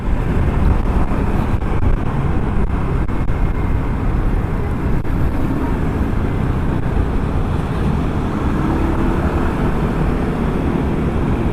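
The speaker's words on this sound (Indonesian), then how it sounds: "aduh anginnya gede banget, tunggu ya" Strong wind buffets an outdoor microphone in a steady, loud roar that fills the whole stretch, with no voice over it.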